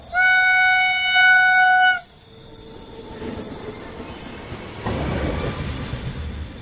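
A train passes along a railway line at night, opening with a loud steady whistle-like squeal that stops abruptly, followed by a rumbling, rattling roll of wheels on track that grows rougher toward the end.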